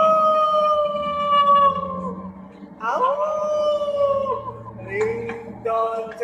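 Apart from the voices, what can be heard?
ghost dog howling ringtone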